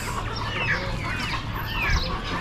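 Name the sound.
Orpington chickens clucking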